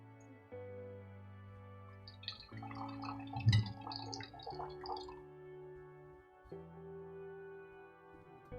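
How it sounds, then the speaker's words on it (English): Water is poured onto a soil erosion model with three trays and drips and trickles through the soil, giving soft scattered drips and splashes under steady background music. "Now we should pour water equally among the 3 cases."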